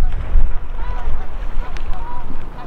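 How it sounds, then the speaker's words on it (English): Paddle strokes push a kayak along a river, with loud, uneven low splashes and gusty wind rumble on the microphone; a voice is faintly present. "I gotta keep paddling"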